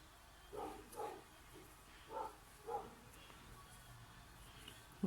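A dog barks a few times in quick pairs, faint and somewhat distant, over a quiet indoor background.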